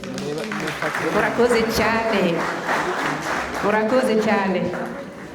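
An audience at a Francophonie Day event at TTC Mbuga in Rwanda applauds steadily for about five seconds, with voices talking and calling out over the clapping throughout.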